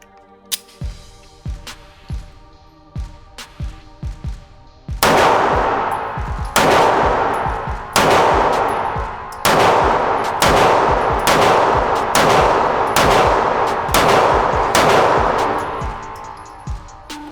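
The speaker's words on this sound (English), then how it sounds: "I'll go ahead and run 10 rounds through it and give you my thoughts." A pistol fitted with a Juggernaut Tactical grip module fires ten loud, sharp shots in a steady rhythm, each crack ringing out with a bright metallic decay, preceded by quieter handling clicks.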